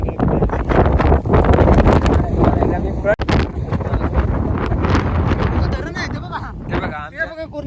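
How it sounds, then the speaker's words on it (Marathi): Strong wind buffets the microphone in heavy, continuous gusts on a hilltop near Marleshwar, roaring and rumbling throughout, with voices faintly talking underneath. "आता खूप वारा सुटला आहे"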